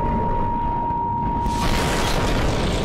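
Rocket explosions in a Skibidi Toilet animation: a dense, rumbling blast that swells into a broad roaring burst halfway through, loud and continuous for the whole stretch, with no talk.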